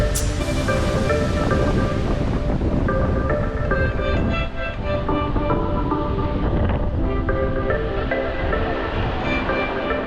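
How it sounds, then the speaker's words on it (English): Strong wind whips across a Florida beach at St. Pete, a loud continuous roar with surf and buffeting against the microphone, steady and close throughout. "It's very windy out."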